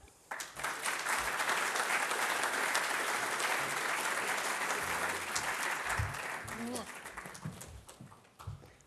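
Conference audience applauding to welcome a speaker at a grasslands session, a dense sustained clapping that swells quickly, holds for several seconds, then tapers off as a voice begins speaking near the end.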